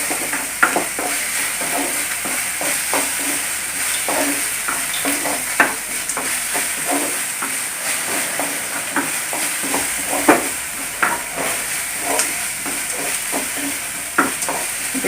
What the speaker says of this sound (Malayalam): ഒന്ന് സവാള ഒന്ന് വാടത്തേക്കാം